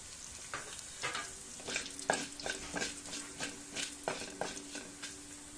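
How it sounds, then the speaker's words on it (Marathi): Coriander seeds dry-roasting in a pan with cloves, cinnamon and bay leaf, a quiet, close patter of rattling seeds and repeated scraping strokes from stirring. "त्याच्यामध्ये धने भाजून घेते."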